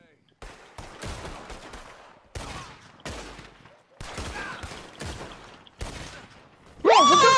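Rapid gunfire from a pistol duel in Red Dead Redemption 2, in several loud, sharp bursts of shots separated by brief pauses, ending in a shrill, tonal sound.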